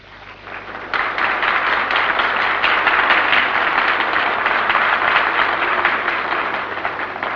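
A crowd in a parliament chamber breaks into loud, sustained applause that swells quickly, holds as dense clapping for several seconds, then slowly thins out.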